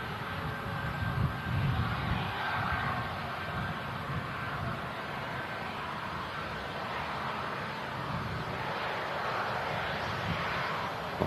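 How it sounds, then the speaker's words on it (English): A two-year-old Qatar Airways Airbus A350-1000 comes in to land at Manchester Airport. Its jet engines give a steady, broad roar from a moderate distance that lasts the whole time, and no one speaks. "the Qatar A350 1000 is just about to touch down Manchester Airport"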